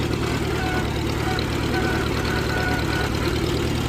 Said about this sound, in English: really good sounding little tractor